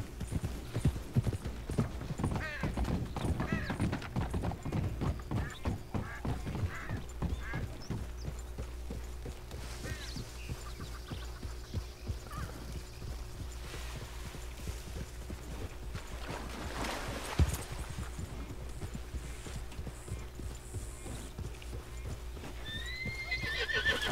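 A white Shire horse in Red Dead Redemption 2 neighs and whinnies while its hooves clip-clop repeatedly, close and fairly loud over a low ambient background, with snorts and shifting steps throughout.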